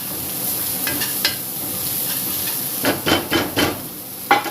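Chicken tikka masala cooks in a pan with a steady low sizzle, then a run of louder scraping stir strokes and clatter toward the end, close up with no talking.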